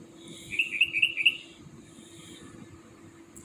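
A bird sings at night, a short burst of several bright, rapid chirping notes in quick succession, moderately close, over a steady low background hum, then quiet.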